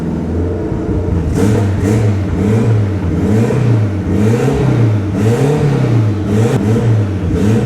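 A Honda Civic engine revs repeatedly, its pitch rising and falling in several close bursts, loud and near with no talking.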